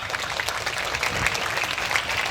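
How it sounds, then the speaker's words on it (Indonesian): Pesantren students clap together at a Haflatul Imtihan celebration at Pondok Pesantren Al-Rahmah Sekadau: a brief, continuous burst of crowd applause, loud and even from start to finish. "Tepuk tangan santrinya."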